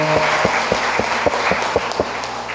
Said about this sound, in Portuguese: Dá uma salva de palmas para você que veio